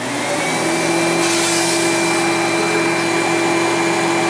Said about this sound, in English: You really need to clean that out before you vacuum further